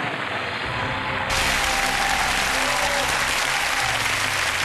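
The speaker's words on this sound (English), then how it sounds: "Give them a round of applause." A studio audience at a TV game show applauds, a dense, loud and sustained roar of clapping that swells after a brief softer start and carries on steadily with no voice over it.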